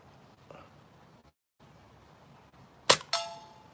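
A Daisy Model 27 BB gun fires two sharp, close cracks in quick succession, the second followed by a ringing metallic tone, after a quiet stretch with a faint earlier click.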